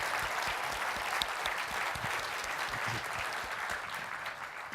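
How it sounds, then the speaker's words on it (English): An audience at a green IT awards ceremony applauds the finalists, giving sustained, dense clapping with occasional louder individual claps and a faint murmur underneath. "Let's give them a round of applause."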